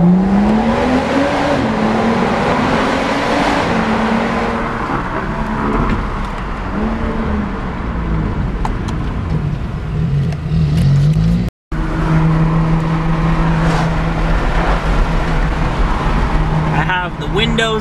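A tuned car with an aftermarket charge pipe cruises in fifth gear with the windows down, its engine droning steadily with some rising revs and road noise, while someone talks over it throughout.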